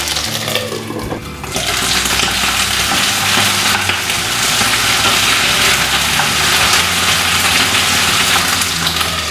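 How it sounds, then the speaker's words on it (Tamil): Ivy gourd masala frying in a pan as it is stirred, a loud, steady sizzle and hiss that rises after a quieter first second and holds without a break, no voices. "ஸோ எவ்ரி 2 மினிட்ஸ் வந்து இந்த மாதிரி நம்ம கிளறிட்டே வரலாம்"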